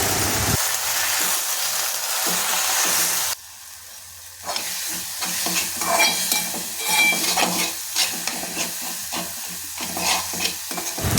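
Gongura leaves stirred and fried in a pan for chutney, a steady close sizzle with scraping stirs that drops out briefly near the start, then returns with busy clatter and hiss.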